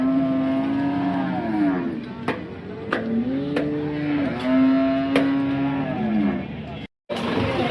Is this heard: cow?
yes